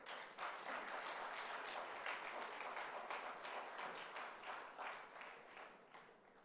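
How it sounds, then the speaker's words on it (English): Conference audience applause in a hall at a counter-terrorism event, a dense, steady, even patter of many hands clapping that stays level throughout and slowly tapers at the end, heard fairly faint. "Please give her a warm round of applause."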